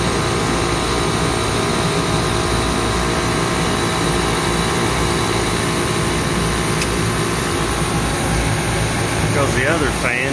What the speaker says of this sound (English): Well, compressor's kind of loud.